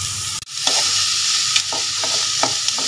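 Chopped onion frying in a pan for gobi manchurian gives a steady, close sizzle, broken by a handful of sharp spoon clicks and stirring scrapes. There is no talking.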